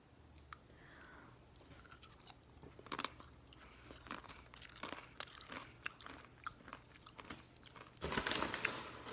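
Super crunchy food eaten during a taste test at home, a series of close, sharp crunching bites and chewing with irregular bursts, louder toward the end, with no talk.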